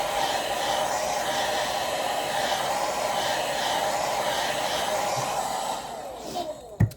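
A hair dryer blows steadily on a wig hairline, producing a continuous close whooshing roar for about six seconds. The roar then cuts off, followed by a few faint handling clicks.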